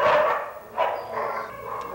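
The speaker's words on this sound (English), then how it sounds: "It's a cacophony of noise in the doghouse of the Memphis Humane Society." Dogs bark and yip in overlapping bursts inside a crowded humane society shelter kennel, loud and close, filling the room with echoing noise and no speech.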